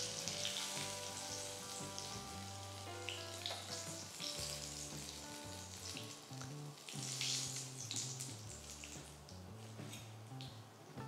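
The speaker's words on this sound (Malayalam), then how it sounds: "ഇതേപോലെ ബാക്കിയുള്ള ചില്ലീസ് ഫ്രൈ ചെയ്തെടുക്കാം." Stuffed chillies deep frying in hot oil, giving a continuous bubbling sizzle that swells and fades, heard under background music with no speech.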